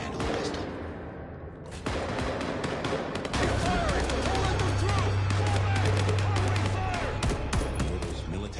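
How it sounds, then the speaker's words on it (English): Rapid bursts of gunfire and repeated shots in Vampire: The Masquerade – Bloodlines 2, loud and dense, with automatic fire rattling continuously. "Gunfire."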